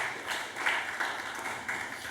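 Church congregation clapping hands together as an offering of praise, a steady patter of many palms at moderate distance with a few sharper accents, no talk over it.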